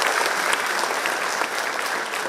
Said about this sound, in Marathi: एक मोठा टाळ्यांचा कडकडाट